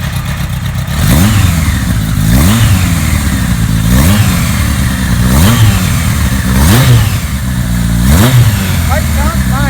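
A 1980 Kawasaki KZ1000 LTD motorcycle engine runs loud and close, revved hard again and again in regular bursts about every second and a half, each throttle blip climbing and falling back toward idle.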